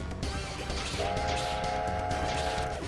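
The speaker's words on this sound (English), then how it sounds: "Train whistle sound is really funny to me." In the video game Iconoclasts, a train whistle sounds as one sustained, steady, bright tone lasting nearly two seconds, standing out over game sounds.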